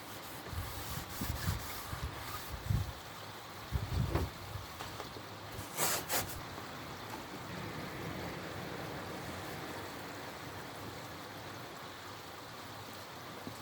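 Pond filter media is scrubbed with a sponge in pond water, a continuous wet rubbing and sloshing with irregular louder swishes and splashes, close by and steady throughout, with no talking.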